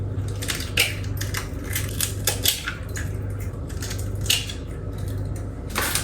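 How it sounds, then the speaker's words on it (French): Three eggs are cracked into a mixing bowl while banana bread batter is prepared. Clicky, sharp cracking and tapping sounds come close up in quick irregular bursts over a low steady hum. "dans mon saladier, je vais ajouter 3 œufs"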